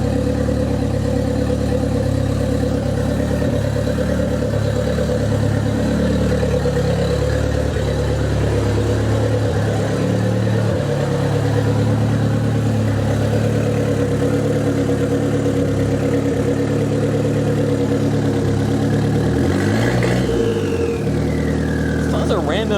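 A 40-year-old Nissan 200SX idles with a random misfire, a loud, steady close-up engine drone that runs unbroken throughout, with a brief shift in tone near the end.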